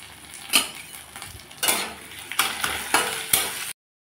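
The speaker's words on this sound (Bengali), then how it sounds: "তেলের উপরে দিয়ে দিলাম 5 ফোড়ন, 3 টুকরো শুকনো লঙ্কা, আদা বাটা, তেজপাতা, সামান্য জিরার গুঁড়া" Five-spice, dried chilies, ginger paste and bay leaf frying in hot oil, a near crackling sizzle broken by several louder bursts of spoon scraping and stirring against the pan before it cuts off abruptly.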